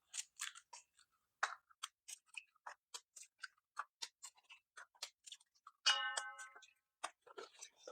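Six eggs whisked together in a bowl for biscotti: quiet, quick taps and clicks in irregular bursts, close up and faint.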